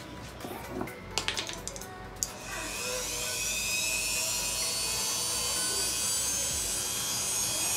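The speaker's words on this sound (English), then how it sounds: "So we're gonna go ahead and sand off this down here" Sanding a custom G35 gauge cluster with a rotary tool at its lowest setting: a few short bursts and taps, then a steady high-pitched whine that runs continuously and fairly loud to the end.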